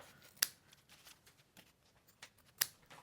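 Scissors clip the corners of sewn fabric near the stitching: two sharp, crisp snips spaced about two seconds apart, with faint handling rustles between them, close and quiet.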